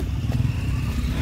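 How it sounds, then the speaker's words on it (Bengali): A motorcycle engine labours up a steep dirt hill track on a trek in the Bandarban hills, a brief, steady low rumble heard at moderate distance. "ওই যে আরেকটা বাইক উঠছে, রাস্তাই না।"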